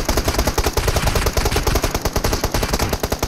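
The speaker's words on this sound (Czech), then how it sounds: "Ale tady něco střílí, počkej." Automatic gunfire in the mobile battle royale game PUBG Mobile rattles out in rapid bursts. Shots come loud and close, with a tight, fast rhythm that runs the whole time, and no talking.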